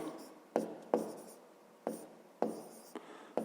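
Fractions being written by hand, a pen scratching in several short strokes with sharp onsets spaced irregularly across a few seconds, close and quiet with no talking.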